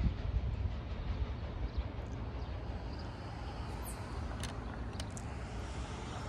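A northbound freight train rolls past near the old railroad depot in Glendale, Ohio, a continuous low rumble and clatter of cars at moderate distance, steady throughout with faint high squeals of wheels on rail.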